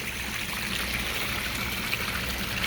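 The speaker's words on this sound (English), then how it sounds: "off the top of my waterfall" Continuous splashing and trickling of water falling off a garden pond waterfall into the pond, steady and close, with no voices.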